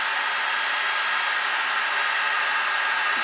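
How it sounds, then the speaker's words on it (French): A heat gun blasts hot air onto a PVC tube to soften it, giving a steady, loud, close, unbroken hiss-and-roar of fan noise with no variation and no voices. "Ensuite, eh bien, on chauffe au pistolet thermique,"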